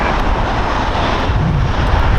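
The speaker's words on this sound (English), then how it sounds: "We got a Sun Country taxiing here." A Sun Country Airlines Boeing jet taxiing at Los Angeles International Airport, a steady, loud engine roar with broadband rumble and hiss holding constant throughout, with some wind buffeting the microphone.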